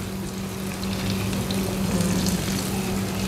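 Food frying in oil until crunchy, a steady loud sizzle with bubbling crackle and a low hum underneath, continuous throughout.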